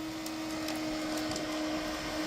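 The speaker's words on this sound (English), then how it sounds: "I got her vacuuming up stones in the yard." A vacuum sucks up stones in a yard outdoors with a continuous loud motor drone and steady hum, with faint rattles and ticks of small stones running through the hose.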